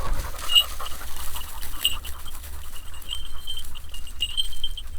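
Tired hunting dogs panting after running through stubble fields in the field during hunting season, with a steady, rapid breathy rhythm close by and no talk.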